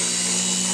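Steady, continuous grinding whir of a sanding disc against a 1911 pistol magazine well, a sustained high hiss with a low motor hum underneath, close and even.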